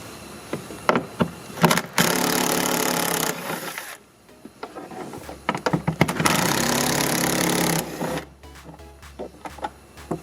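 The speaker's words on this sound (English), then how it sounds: "Remove the plastic caps, and underneath you have 4 nuts. Those are with 10mm socket." A 10mm socket driver whirs in sustained bursts while removing nuts beneath plastic caps on a Dodge Journey, two long loud runs separated by brief clicks and pauses, close and alone.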